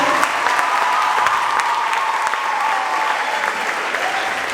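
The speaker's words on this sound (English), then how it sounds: "can we please give them a hand of applause for the sound for tonight?" Audience at a high school musical applauding steadily, a dense wash of clapping hands that holds for a few seconds with a faint crowd murmur.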